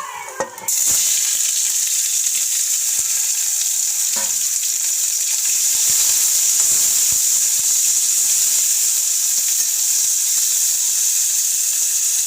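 Chopped onions drop into hot oil in a kadai; after a brief clatter a loud, even sizzle starts at once and holds steady throughout.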